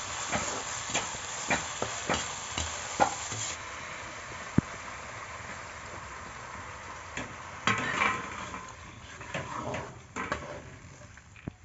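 Rice mixed with pointed gourd in a pan, stirred with a steady scraping and soft sizzle, with occasional clinks of the utensil on the pan, close and continuous with no voices.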